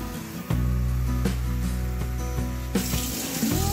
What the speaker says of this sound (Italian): Adesso mettiamo un altro po' di acqua